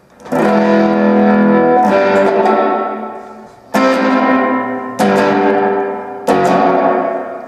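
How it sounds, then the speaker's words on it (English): Electric guitar chords played through an XVIVE Maxverb pedal set to plate reverb, four struck chords each ringing into a long, dense shimmering tail that washes over the next, loud and alone. "We got more of a plate reverb going on here."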